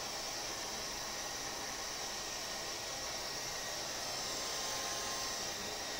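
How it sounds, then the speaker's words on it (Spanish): A hair dryer blows steadily over a freshly painted artwork, producing a constant, even rushing whoosh with no breaks or talk. "Perdón el ruido del secador."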